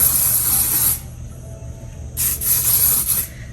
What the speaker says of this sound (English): I am going to use a little bit of this hairspray.